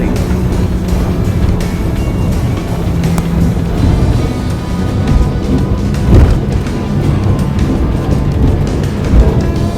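An Axopar 37 Sports Cabin motorboat banks through a turn at about 30 knots at sea, its engine roar and rushing water a steady, loud wash throughout.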